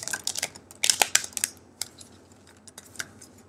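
A deck of playing cards being shuffled by hand, giving quick bursts of crisp riffling and snapping clicks in two main flurries, then scattered softer taps, close and quiet with no talk.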